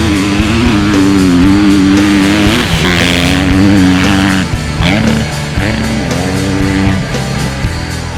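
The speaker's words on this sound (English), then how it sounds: "Today we're getting our first chance to ride the 2018 Husqvarna FC250." A 2018 Husqvarna FC250 dirt bike is ridden hard nearby, its single-cylinder engine revving loud and buzzing through repeated rises and drops as gears shift.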